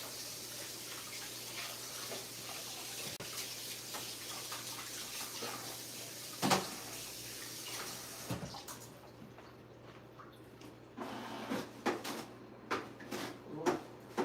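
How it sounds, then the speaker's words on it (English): Hands washed under a running kitchen tap, a steady hiss of flowing water that stops partway, followed by intermittent splashes, clunks and handling noises close by. "Let me wash my hands."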